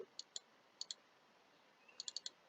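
Computer mouse clicks sound crisp and close in a quiet room: several spaced single and double clicks, then a quick cluster of four near the end, with no talking.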